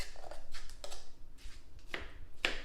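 Onions diced in a hand-operated food chopper, a few short, crisp chopping clacks spaced irregularly, fairly quiet and close, with no talk over them.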